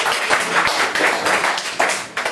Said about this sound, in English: Yeah, you can clap if you want.